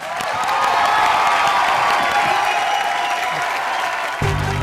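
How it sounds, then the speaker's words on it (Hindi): Studio audience on a Hindi TV comedy show breaks into loud sustained applause and some cheering, dense and close, cutting off abruptly just before the end. "जोरदार तालियां हो जाए शकील जी"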